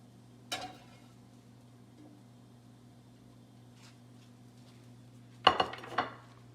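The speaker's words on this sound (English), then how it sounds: "So I'm going to lift them off the griddle and put them on the salad." Grilled squash and apple pieces are lifted off a griddle onto a salad: a quiet kitchen with a low hum, a single metal clink early on, then a cluster of sharp utensil scrapes and clatters near the end.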